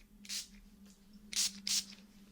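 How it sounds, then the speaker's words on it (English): Lavender spray from a pump bottle is misted around the listener in three short close puffs, one early and two in quick succession near the end, over a quiet low hum. "So we're just going to spray a little bit around you."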